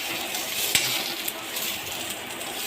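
Tomatoes sizzle and fry in a pan for egg curry, a steady close hiss with a couple of light clinks of a utensil against the pan, no voices.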